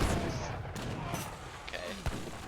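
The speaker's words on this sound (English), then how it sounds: "It's a big volley." Massed musket volley in a real-time strategy battle, a burst of overlapping gunfire cracks with a sharp shot near the end, thick with chaotic battle noise under faint background talk.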